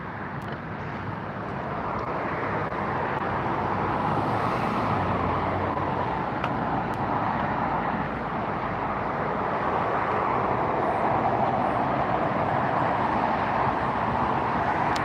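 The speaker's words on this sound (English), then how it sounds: "Here comes the ANA in on the far side" An ANA airliner arriving at LAX, heard as a steady, broad distant roar of jet engines on the far runway that swells slightly and holds, with faint background traffic hum.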